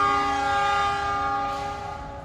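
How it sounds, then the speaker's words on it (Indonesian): A KA Supas commuter train departing Bangil station sounds a loud, sustained horn close by, the tone holding steady for about two seconds and then easing slightly as it ends. "Oke, lanjut komuter lain Supas berangkat."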